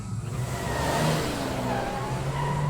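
A car in a TV drama scene, heard as a continuous roaring engine rev with a tire-skid hiss, loud and sustained throughout with no pauses.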